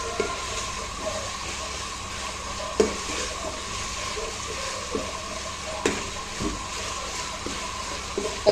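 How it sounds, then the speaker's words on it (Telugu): Ginger garlic paste frying in oil for sambar makes a steady sizzle, broken by irregular stirring scrapes and a couple of sharper knocks of a spoon against the pan, with no talking. "పచ్చి వాసన వెళ్ళే వరకు మంచిగా వేయించుకోవాలండి."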